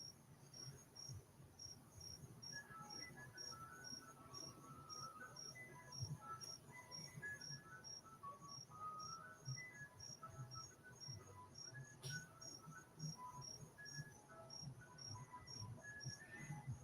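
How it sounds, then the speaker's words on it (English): Crickets chirp in a steady, pulsing chorus throughout, a continuous high trill layered with a few scattered insect calls over a faint low background hum. "You hear the crickets came over?"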